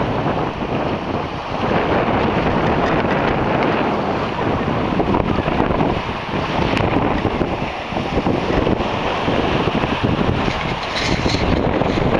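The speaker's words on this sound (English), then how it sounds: "Perfect trade wind sailing." Sailboat running under jib alone in a steady trade wind on open sea, with continuous loud wind buffeting the microphone over the rush and slosh of water along the hull.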